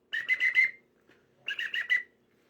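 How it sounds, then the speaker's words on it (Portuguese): A whistle blown in two quick bursts of about four short, shrill trills each, separated by a brief pause, loud and close with no talk. "peguei o meu apito, que me acompanha"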